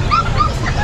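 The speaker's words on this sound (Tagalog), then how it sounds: "Tignan natin yung mga aso niya." Several dogs, including a Dachshund, at a home with many animals, giving short yips and whimpering barks close to the microphone.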